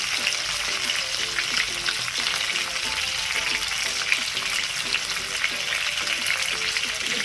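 Ingredients for biryani sizzle in hot oil in a pan, a loud, steady crackling fry close by with faint stirring scrapes and no talking.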